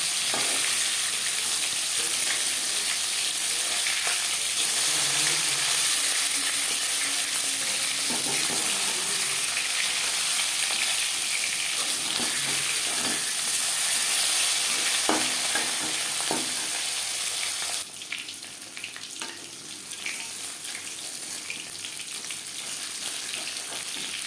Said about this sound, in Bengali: মাছ একটা সাইড ভাজা হয়ে গেলে অপর সাইড উল্টে দেবো।